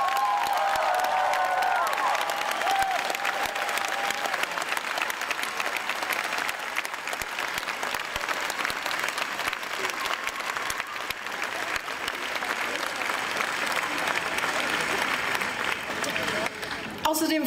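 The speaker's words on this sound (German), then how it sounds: "Bitte einen warmen Applaus" A large audience at the Wiener Festwochen gives warm applause to welcome the Vienna Symphony Orchestra. Dense, sustained clapping fills a big hall, with some cheering mixed in, and stays loud and steady for many seconds.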